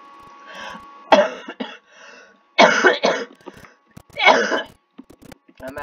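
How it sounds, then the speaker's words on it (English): Three harsh, close coughing fits break out in sequence from someone playing the online shooter game Phantom Forces, each a loud burst separated by quieter gaps with faint background sounds. "I'm having a bad cough for this video"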